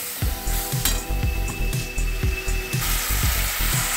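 Spice paste frying in a pan for koi fish curry, a steady sizzle with a regular rhythm of low thuds and knocks and a brief whining tone partway through.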